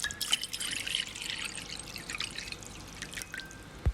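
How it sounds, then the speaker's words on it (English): Water pours into a bowl with a light, sparse trickle and scattered drips, close and fairly quiet, ending with a small knock. "This time I'm pouring into a bowl instead of a mug."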